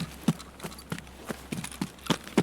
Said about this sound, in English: I'm hearing footsteps that aren't mine.